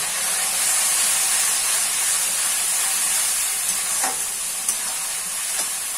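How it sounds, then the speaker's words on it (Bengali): Spice masala sizzles and hisses steadily in hot oil in a pan for a goat curry, with a few faint stirring scrapes, close and continuous, and no talking. "এবার সমস্ত মশলাটাকে আমি ভালো করে কষিয়ে নেব।"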